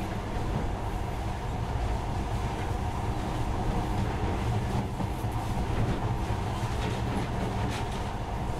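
A monorail train in the video game Metro: Last Light rumbles steadily, a loud continuous low drone of rolling carriages with faint rattles and clanks over the top.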